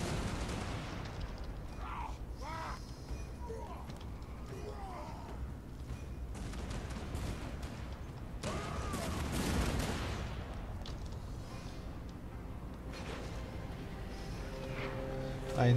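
Organ guns fire in a Total War: Warhammer II battle, a dense mid-level barrage of overlapping blasts and mechanical rattles that runs without a break beneath a speaking voice.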